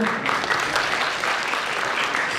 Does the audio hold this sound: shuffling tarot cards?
no